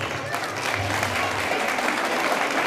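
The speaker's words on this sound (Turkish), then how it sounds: "Ona kuvvetli alkışlarınızı istiyorum öncelikle." Audience at a village festival program applauds strongly, a dense, steady wash of many hands clapping together that holds for the whole stretch, with faint crowd murmur underneath.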